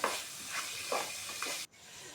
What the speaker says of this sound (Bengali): এবার মাংসটাকে মশলার সাথে কষিয়ে নিতে হবে।